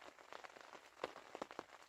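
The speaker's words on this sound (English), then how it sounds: "And the rain is persisting outdoors." Faint, steady rain falls outdoors on a damp autumn evening in the Northern Ontario backcountry, with soft irregular patters and drips spread evenly through the short stretch.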